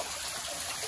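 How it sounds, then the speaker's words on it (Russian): A small waterfall in a castle park in the Czech Republic, swollen after heavy rain, babbles and splashes as a steady, close hiss of running water with no voices. "Слышите, водичка журчит."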